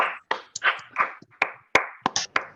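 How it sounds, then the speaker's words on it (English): Online participants at a girls' STEAM institute event clap through their microphones after VR team business presentations: a sparse, uneven run of separate claps and taps, close and clipped, with gaps of silence between them. "let's give everyone in here a huge round of applause"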